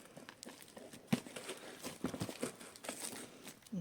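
Plastic wrapping around a package of carnivorous plants being torn and crinkled open, with scattered close crackles and rustles over a few seconds.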